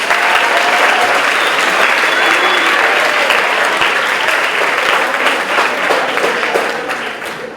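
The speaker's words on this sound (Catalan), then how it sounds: "per favor, un fort aplaudiment per a ell" Sustained audience applause at a 4th-year ESO school graduation, a full room clapping loudly and evenly for several seconds before tapering slightly at the end.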